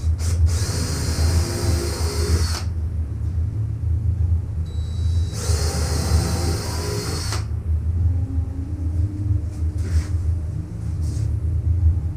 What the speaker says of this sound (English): We're going to just use the drill that we had on for the nails.